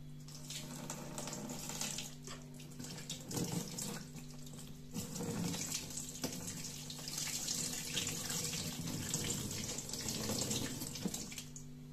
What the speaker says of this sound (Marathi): आता आपण हे पाणी टाकून बघू